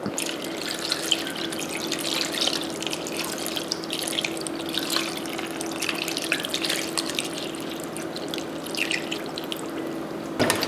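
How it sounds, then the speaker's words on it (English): Water runs and splashes steadily into a cooking pot over fish for several seconds, a continuous trickling pour with a low hum beneath. "Then we're going to add water to slightly cover it."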